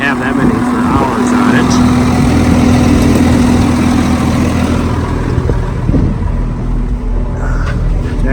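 An older farm tractor engine runs steadily at a loud, close, mid-pitched idle during spring tillage, with someone talking over it throughout.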